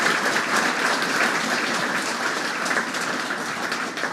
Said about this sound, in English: a big round of applause for John Olsen's grandchildren, for Georgina